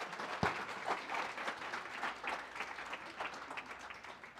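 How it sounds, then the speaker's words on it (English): Conference audience applauds a speaker, a loose patter of individual claps with one sharp nearby clap early on, tapering slightly. "Round of applause for Mike."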